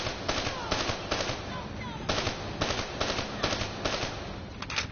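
Repeated bursts of automatic gunfire in the Black Ops 3 campaign, loud rapid volleys broken by short gaps, with a faint voice now and then beneath the shots.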